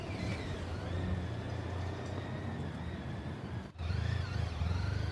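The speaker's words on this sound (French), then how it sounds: "À moto, nous suivons son véhicule." Steady engine rumble from a motorcycle following a car through traffic after leaving a courthouse, continuous and fairly close, with a brief dip near the end before the drone resumes.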